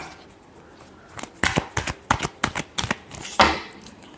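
Tarot cards are shuffled in a series of crisp, uneven riffling and tapping bursts, close and fairly quiet, with no talk over them.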